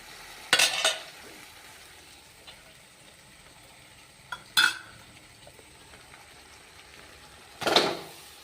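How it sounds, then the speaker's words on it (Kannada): Cooked rice is mixed into hot masala oil in a pan, a quiet low sizzle broken by three separate bursts of scraping and stirring spaced a few seconds apart. "ಇವಾಗ ನಾವು ಅನ್ನ ಮಿಕ್ಸ್ ಮಾಡ್ಕೊಂಡು"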